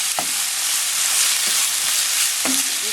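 Ground pork frying in a pan with a steady, loud, close sizzle, broken by a few faint scrapes or stirs, with no talking.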